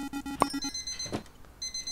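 Closing-time electronic beep in the repair-shop video game Repair This, a short bright tone standing out briefly over steady tonal game music.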